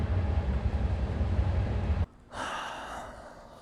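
A passing train makes a steady broadband rumble, loud and close, that cuts off abruptly partway through, then returns as a fainter, hissing rush.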